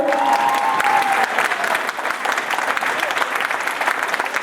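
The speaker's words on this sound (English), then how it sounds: "Let's give them a round of applause." A crowd claps loudly and continuously, dense applause sustained without letting up, with a brief voice at the very start.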